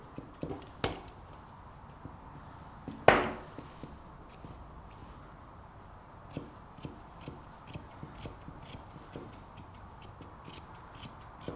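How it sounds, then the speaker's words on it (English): Scissors snip hair around the base of a Cockapoo's foot during grooming, with a couple of sharper clicks early on and then a steady run of light, quiet snips. "just trim around the base of the foot to give yourself a starting point before trimming the actual foot itself and the leg itself"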